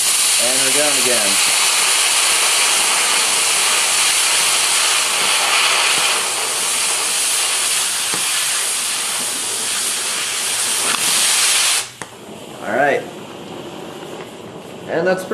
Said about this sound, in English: Now that popcorn sound, like I said, is stuff going back into the tip.